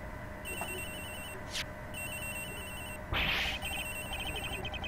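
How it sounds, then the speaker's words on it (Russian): A phone in the video game Ace Attorney Investigations rings in repeated electronic trilling bursts with short pauses between them, clear and steady against a faint musical background, with a couple of brief whooshing effects. "Он звонит где-то здесь, сэр."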